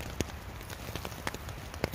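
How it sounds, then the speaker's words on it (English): Cold rain patters on a tent during a freezing winter camp, a steady faint hiss broken by a few sharper drop taps. "now it's raining"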